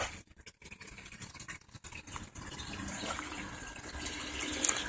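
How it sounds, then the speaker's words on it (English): Water siphoning down into gravel in an aquaponics IBC tote, a faint gurgling trickle that grows into a steadier rushing flow, with no voices. "So it was siphoning all the water down in here."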